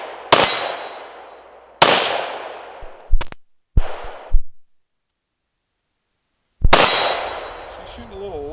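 Gunshots from a PSA AK rifle fired during accuracy testing, three loud sharp reports with ringing decay spaced a few seconds apart, plus smaller metallic clicks and clanks of handling in between.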